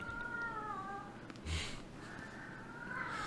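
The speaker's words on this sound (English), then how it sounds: "He's deaf, so he don't know how to, like, meow like a normal cat." A deaf cat gives a few odd, drawn-out meows, hoarse and uneven, fairly close, with a soft snort-like bump in the middle.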